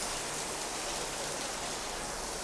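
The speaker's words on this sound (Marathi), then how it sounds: "आता लय मुसळधार चालू झाला कडे पाऊस" Heavy monsoon rain pours steadily in Mumbai, a dense broadband hiss with no breaks, loud and close throughout.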